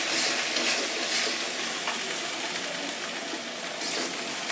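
Spice masala fries in oil in a pan for a pangasius fish curry, making a close, constant crackling sizzle with faint stirring scrapes, steady for several seconds with no voices.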